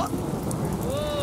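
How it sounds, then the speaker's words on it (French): Thunderstorm over a lakeside tent campsite in Sri Lanka: a steady wash of heavy, pouring rain with a low rumble of thunder, loud and continuous for a brief moment, with no voices. "le tonnerre gronde, et une pluie battante commence à tomber"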